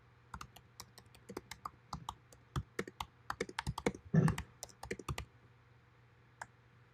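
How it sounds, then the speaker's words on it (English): Quiet computer keyboard typing: sparse key clicks that speed up into a quick burst of keystrokes before trailing off to a final lone tap, close and faint over a low steady hum. "I hear sound of the keyboard"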